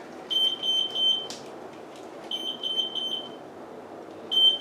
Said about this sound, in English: You can hear the timer.